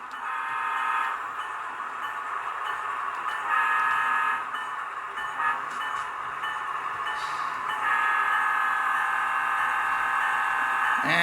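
HO scale model stack train with a long sustained horn blowing through a crossing, a steady multi-tone blast that dips briefly and returns louder near the end, over a rolling rail rumble.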